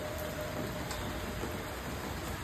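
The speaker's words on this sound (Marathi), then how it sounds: "पाऊस पडतोय." Steady rain falling outdoors in wet, stormy weather, a dense continuous hiss with no voices, fairly quiet and even throughout.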